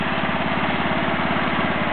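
A Wheel Horse Lawn Ranger riding mower fitted with an 11 hp Briggs and Stratton engine runs with a steady, loud, close-up drone and an even rapid pulse, no speech over it.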